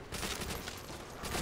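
Rapid gunfire rattles in a Call of Duty World at War zombies match on the Der Riese custom map, shots blurring together into a dense, loud burst without pause.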